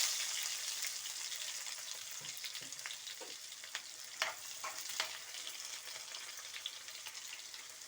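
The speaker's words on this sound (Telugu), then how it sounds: "ఇవన్నీ వేగినవి సన్నగా తరిగి పెట్టుకొని ఆనియన్స్ వేస్తాను." Chopped onions fry in hot oil in a pan, giving a steady, close sizzle with a few soft stirring scrapes and light pops, and no voices.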